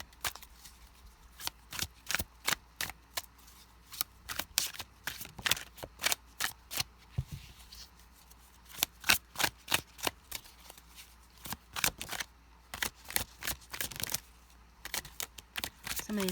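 Tarot cards are shuffled over and over, giving quick riffling bursts of papery flutter. Short pauses break them up, all fairly close and quiet.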